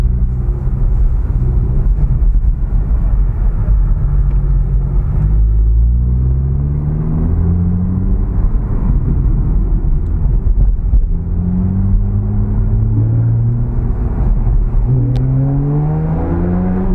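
A Porsche 911 Targa 4S engine pulls hard on a road test drive, its loud, close drone climbing in pitch through several rising sweeps as it gears up, with steady road rumble underneath.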